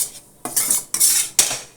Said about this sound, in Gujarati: સેજ કલર ચેન્જ થાય ત્યાં સુધી આપણે લોટને શેકીશું.